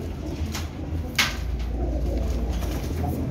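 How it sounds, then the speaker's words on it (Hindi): Domestic pigeons coo in a loft, low soft repeated cooing up close with a brief clatter partway through and no talking. "बड़े अच्छे कबूतर ने माशाल्लाह"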